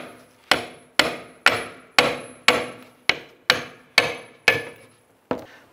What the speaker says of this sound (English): you want to go ahead and strike the fork so you can go ahead and work it off of the